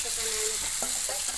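Marinated chicken fries in a wok, a close steady sizzle with a few short scraping stir sounds over a second and a half, and no one talking.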